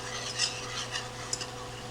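A metal whisk stirs heavy whipping cream into butter and cream cheese in a skillet, producing soft rhythmic scraping and swishing strokes with a light clink, under a steady low hum and no talk.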